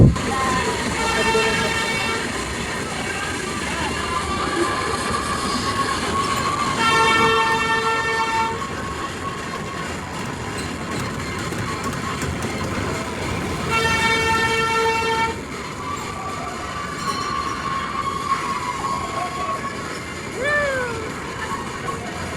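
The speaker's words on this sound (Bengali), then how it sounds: "ফ্যান্টাসির মধ্যে জুজু ট্রেন দেখা যাইতেছে ভূতের টানেলের দিকে যাইতেছে" The horn of a small train ride at Fantasy Kingdom amusement park, heading toward its horror tunnel, toots in two sustained blasts, separated by a pause, over a steady wash of crowd noise and distant voices.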